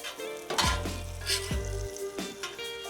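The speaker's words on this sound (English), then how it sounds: "we're gonna mix that up among the peaches, get them all" Peaches are tossed with brown sugar and cinnamon on a hot grill, giving a close sizzle with scraping utensil strokes and a few bursts of louder frying noise.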